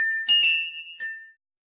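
A MimiSmart smart home system plays its text message notification chime: a bright, close electronic jingle of several quick tinkling tones over a sustained ringing note that fades out, with no voices.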